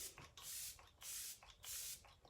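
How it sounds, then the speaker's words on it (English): Three bursts of setting spray misted onto a face from a pump bottle, each a soft hissing puff about half a second long, close and clear with short pauses between. "This is literally the best setting spray."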